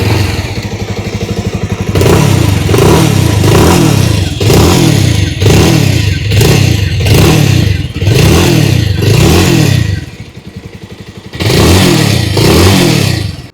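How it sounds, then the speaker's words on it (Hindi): A 2026 Bajaj Avenger 220 Street motorcycle idles, then its exhaust rises and falls through a series of loud, close throttle revs, with a short drop back to idle before the last rev. "आइए अब सुन लेते हैं इस बाइक की एग्जॉस्ट नोट।"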